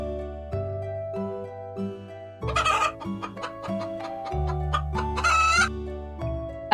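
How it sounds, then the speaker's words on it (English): A hen clucks and a rooster crows in several bursts over a steady melodic music bed, the bird calls loud and close. "Hen."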